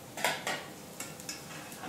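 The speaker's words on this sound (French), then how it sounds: "on va pouvoir rajouter nos champignons" Mushrooms, morels among them, drop into a hot pan with a couple of soft clattering thumps and a light scrape of utensil on metal, close and fairly quiet, followed by gentle sizzling.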